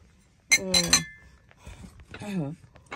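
Wine glasses clink and chime against one another as they are picked up and handled, a few bright ringing contacts in two short bursts with a voice talking between them.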